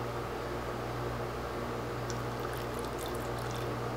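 Alcohol is poured into a cup of shellac, a faint liquid trickle buried in a steady hiss of background noise.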